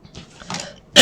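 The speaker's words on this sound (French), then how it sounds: "Décidément, je tousse." A short, sharp cough bursts out at the end after a few soft breathy throat sounds, close and fairly loud.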